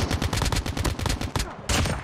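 Rapid gunfire in the mobile shooter game Call of Duty Mobile, bursts of loud close shots in quick succession with a short pause before a final burst.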